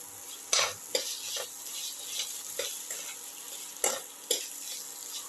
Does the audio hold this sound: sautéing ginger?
yes